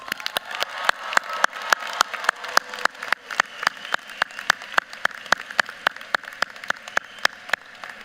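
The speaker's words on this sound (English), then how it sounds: "graduates, please join me in showing our appreciation with resounding applause." Steady, evenly spaced claps ring out in a large hall at a university commencement ceremony, sounding close and sharp, with faint crowd noise behind.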